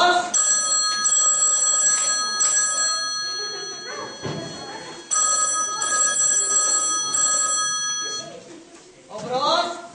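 A telephone rings in bursts of two trilling electronic rings with short pauses, loud and close, in a Karagiozis shadow-puppet play staged by school students, with voices and stage noise around it.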